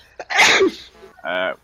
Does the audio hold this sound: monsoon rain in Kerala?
no